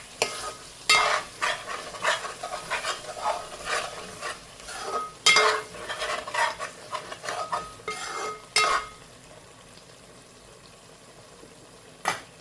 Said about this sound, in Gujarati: ફરીથી એકવાર મસાલો આપણે જોઈએ, ફેરવી નાખીએ